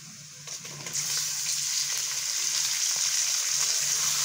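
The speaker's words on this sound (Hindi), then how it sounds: "कलेजी को भी अच्छी तरह से इस ऑयल में भून लेना, फ्राई करना" Steady, loud sizzling of beef liver frying in hot oil, a continuous crackling hiss with faint stirring, no voices.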